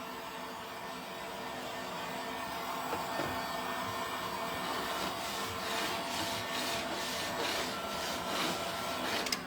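Dryer blowing air to dry a crushed glass resin sun catcher craft piece, a continuous whooshing hum with a faint rising whine, steady and close, heard alone without speech.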